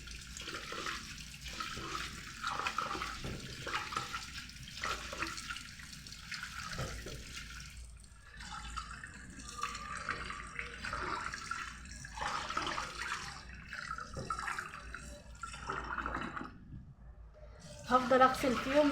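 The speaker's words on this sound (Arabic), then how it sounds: "هفضل اغسل فيهم لحد ما الاقي الميه لونها ابيض" Food is washed under running tap water in a kitchen, with splashing and rinsing that comes in bursts and pauses, while someone talks over it.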